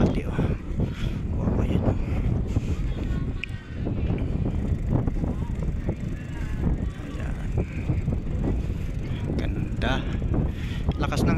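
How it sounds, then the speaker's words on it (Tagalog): Steady wind on a mega dike in the afternoon buffets the microphone with a rough, gusty roar, continuous and fairly loud, with faint background activity underneath. "Hangin, malamig."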